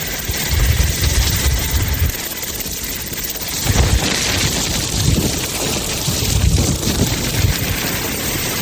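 A thunderstorm with steady, hissing rain throughout and several deep, rolling rumbles of thunder rising and fading in the low end.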